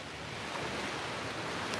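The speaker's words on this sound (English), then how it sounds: "The waves are much quieter than they've been" Calm ocean waves heard from a shoreline on a pretty, quiet day, as a steady, soft broadband wash of surf with a faint wind-like hiss and no distinct breaking crashes.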